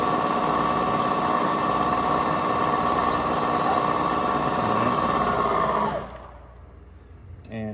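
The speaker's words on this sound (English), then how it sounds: "Now I'm going to put a nice little countersink on my hole for a nice starting portion for the tap" A drill countersinks a hole in a metal Catan board baseplate, preparing it for tapping, with a steady loud whirring drone that cuts off sharply near the end and leaves quiet room tone.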